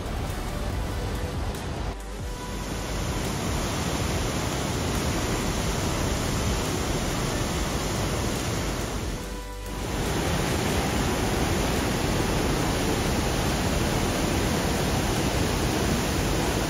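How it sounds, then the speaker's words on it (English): The turquoise Athabasca River in Jasper National Park, Canada, rushing in a strong, continuous broadband roar up close, with two brief dips in loudness where the flow briefly softens. "we admired the turquoise waters and the strong flow of the Athabasca River"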